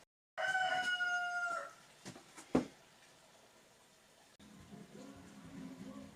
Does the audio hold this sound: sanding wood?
no